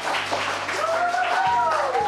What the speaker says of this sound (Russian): аплодисменты зала и зрителей